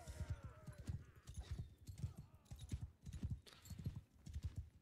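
Horse hooves clip-clop in a fast, steady galloping rhythm in the Mount & Blade II Bannerlord video game, loud and continuous, with brief game sounds above them and no clear talk.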